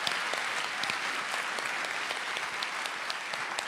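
A roomful of people claps for a graduate at a Swift Creek graduation recognition ceremony, a continuous even burst of applause at moderate volume lasting a few seconds with no voices over it.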